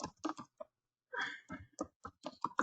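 Someone types a name into a PDF form on a computer keyboard, in quick irregular bursts of clicks with a short pause partway through, close and fairly soft.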